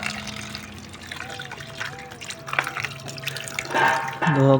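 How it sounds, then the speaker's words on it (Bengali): Water runs and splashes as a very dirty bird-feeding container is rinsed and scrubbed at a tap, with trickling and dripping throughout and louder sloshing near the end. "এই জিনিসটা আগে আমার ধুতে হবে না ধুলে তো হবেই না ধুয়ে ফেলি"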